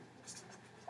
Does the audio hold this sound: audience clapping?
no